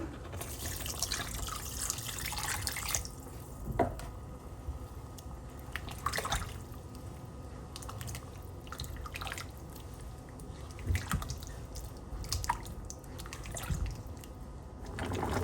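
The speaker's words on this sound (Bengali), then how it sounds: "এর ভিতরে এখন দিয়ে দেবো আমি নারকেল দুধটা।" Coconut milk pouring into simmering chickpea dal with eggs, giving soft liquid splashes and drips, with light clinks from a spoon or pan, close and fairly quiet.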